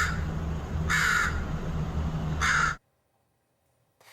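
Crows cawing in a city neighbourhood near trees where a black bear sits, two loud harsh bursts of calls over steady outdoor background before cutting to silence.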